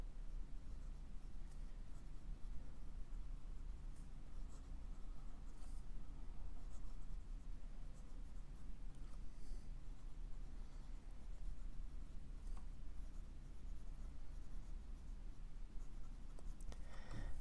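A Sheaffer Touchdown Valiant vintage fountain pen scratches steadily across paper while writing a pangram, a continuous soft rustling scrape with small pauses between strokes, close and fairly quiet over a low room hum.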